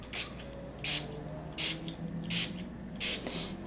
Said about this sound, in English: I'm just going to spray this down your back 5 times.